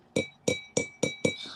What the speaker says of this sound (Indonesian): tolong dong diketukin gelasnya sedikit